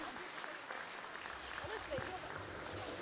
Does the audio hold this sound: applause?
yes